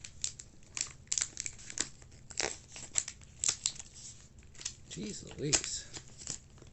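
Heavily taped packaging around a used Batman comic is torn and crinkled, with sharp rips, plastic crackles and scratchy pulls in an uneven sequence, close by. Someone speaks briefly partway through.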